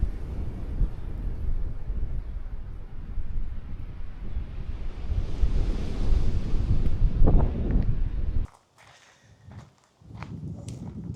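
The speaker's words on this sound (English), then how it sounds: "let's just have a nice walk along the beach" Wind buffets the microphone while footsteps crunch along a sunny Spanish beach, with surf rolling steadily underneath; the sound cuts out abruptly near the end, then faint wind and waves return.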